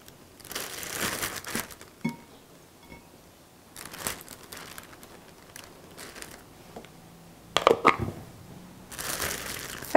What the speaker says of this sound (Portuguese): e começo a empanar meus frangos. O frango já vai sair daqui empanado.